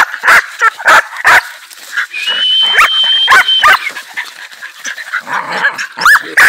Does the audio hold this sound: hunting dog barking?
yes